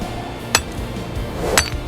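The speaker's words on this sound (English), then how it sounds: "A hammer blow breaks the silence." Two sharp hammer blows strike stone, each a bright, ringing crack about a second apart over a low background rumble.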